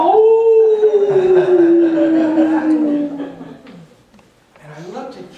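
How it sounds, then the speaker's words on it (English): A dog howls in long, sliding wavering tones, loud and close, for about three seconds, then gives a softer rising howl near the end, with people talking faintly underneath. "That sounds like howling."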